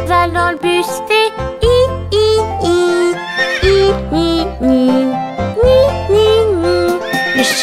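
A horse neighs in a French version of a children's bus song, several whinnies set over a bright, bouncy backing track.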